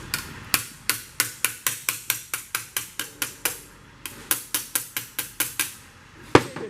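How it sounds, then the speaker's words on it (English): Repeated sharp hammer blows on metal while a custom speaker mount is shaped for a 1957 Cadillac, about twenty evenly spaced ringing strikes, a short pause near the middle, then a final heavier hit. "Get a different hammer."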